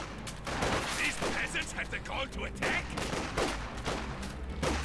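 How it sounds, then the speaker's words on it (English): German Grenadier infantry fire rifles in Company of Heroes 2, a steady series of crackling shots at a moderate distance within busy battle noise, with a commentator speaking over it. "The Grenadiers firing frei."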